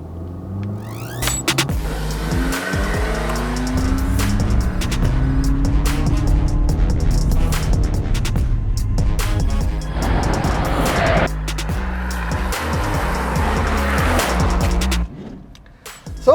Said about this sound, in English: we're going to go into the corner now, trying to keep the speed at 40 km per hour, and this is the first run in the Toyota Glanza